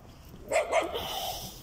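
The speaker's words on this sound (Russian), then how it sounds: "хотя тут никакой музыки, только вот гавкающие собаки." Dogs bark outdoors: two quick, mid-distance barks in close succession, followed by a faint lingering whine against a low background hum.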